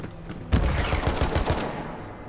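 An assault rifle fires a rapid automatic burst in the video game Borderlands 3, with loud, dense crackling shots that start suddenly and then trail off, and no talk over them.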